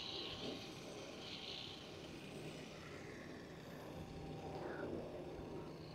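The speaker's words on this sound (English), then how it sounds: "there's plane flying past" An airplane passes far overhead outdoors, its faint, distant engine drone lingering beneath soft bird calls in a quiet natural setting.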